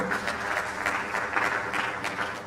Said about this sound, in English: Round of applause for our boy.